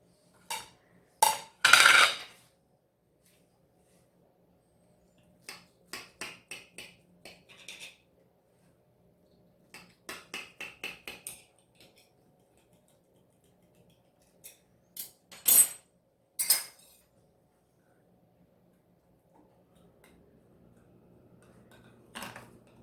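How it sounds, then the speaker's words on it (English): A utensil cuts through an impossible coconut pie in its baking dish: sharp scattered clinks and taps of metal on the dish, in short separate bursts with quiet gaps between them. "now we're going to cut some of this pie."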